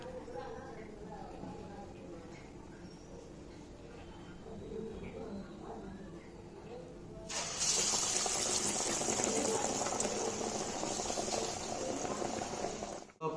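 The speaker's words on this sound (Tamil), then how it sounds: "அரைச்சி வச்சிருக்க மாவை வந்து வடை போட்டு எடுக்க போகிறோம்." Cassava vada batter hits hot oil and sets off a loud, steady frying hiss and sizzle that starts abruptly partway through and fills the rest, after a quieter stretch with low background sound.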